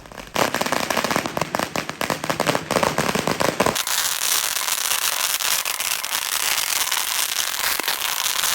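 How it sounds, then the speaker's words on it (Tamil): Firecrackers going off at a Chinese New Year celebration in Malaysia, a dense loud barrage of rapid cracking bangs that cuts off into a continuous hissing crackle. "இவங்க பட்டாசு வெடிக்கிறது தான் பயங்கரமாக வெடிப்பாங்க."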